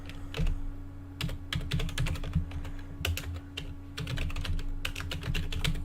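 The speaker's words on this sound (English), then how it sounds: "If I just type www.atc.rs" Rapid keystrokes on a computer keyboard while a web address is typed, close and clear, clustered in quick bursts with short pauses over a steady low hum.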